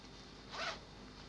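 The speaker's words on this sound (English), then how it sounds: "So I'm done fixing the zip." A zipper on a handmade pencil skirt is drawn once in a quick, close rasping pull, alone in a quiet room.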